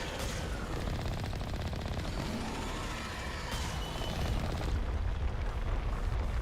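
Sustained sci-fi weapon fire from the Mass Effect video game, a dense, continuous rattle of shots and blasts that stays loud throughout with no voices.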